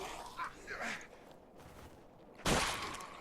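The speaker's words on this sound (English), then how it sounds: "I can try to shoot this guy with the weapon, like so" A single gunshot in Deadlight lands as a loud, broad crack late in the moment, following softer game sounds and talk.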